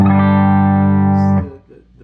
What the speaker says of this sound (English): It's a really usable clean tone, especially with a, you know, like a Les Paul style guitar with humbuckers.